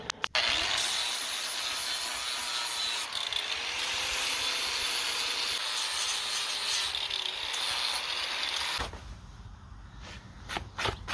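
A power grinder works rust off a trailer's metal frame, a steady loud abrasive whine running without a break for about nine seconds, then cutting off into quieter clicks and handling noises.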